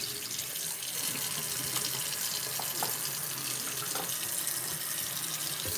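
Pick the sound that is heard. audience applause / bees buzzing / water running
water running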